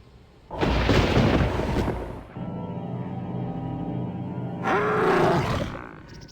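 A wild animal in the video game Star Wars KOTOR 2 lets out a loud, deep roar, then a lower sustained rumbling growl, and finishes with a second swelling roar.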